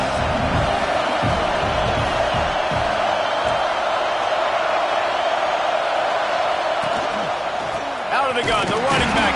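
Auburn football stadium crowd roars as a steady, loud wash of noise on third down, with scattered shouts and whoops swelling near the end and a commentator talking over it.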